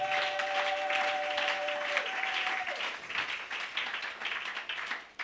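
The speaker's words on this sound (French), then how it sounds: "Acclamons la parole du Seigneur." A church congregation claps together during a service, a dense, steady patter of many hands filling the room for several seconds after a held sung tone fades.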